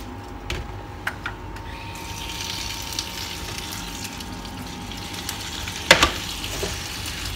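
Tap water runs steadily into a sink while vegetables are washed for chopsuey, a constant close hiss and splash broken by a few clinks and light knocks.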